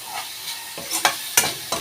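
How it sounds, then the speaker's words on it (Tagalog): Squid fries in a pan for spicy adobo with finely ground pepper, a steady close sizzle broken by several sharp clanks of a utensil stirring against the pan, with no talking. "Ganyan po pagluto ng pusit."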